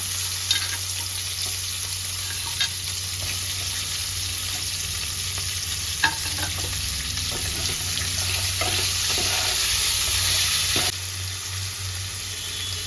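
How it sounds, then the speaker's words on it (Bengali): Potato, bitter gourd and drumstick fry in a pan, producing a steady, hissing sizzle broken by a few light clinks and scrapes of stirring, with no one speaking. "এবার বাকি সবজিগুলো দিয়ে দেবো আলু করলা ডাটা"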